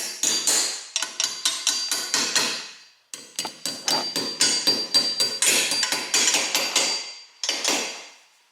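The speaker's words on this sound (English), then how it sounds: "Tap them in." A hammer taps Dynabolt wall anchors into a wall to mount a shelf bracket. Rapid, loud, close strikes come in dense bursts, with a short pause midway and a final pair of blows after a gap.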